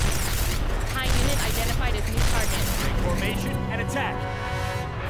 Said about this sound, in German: Ich bin nicht gewohnt, mit den Waffen zu schießen